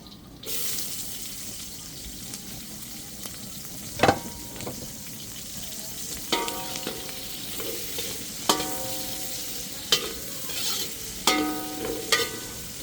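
Garlic added to onions sizzles steadily in a pan for pinakbet, with a spatula scraping and stirring in several distinct clanks and scrapes over the continuous frying hiss.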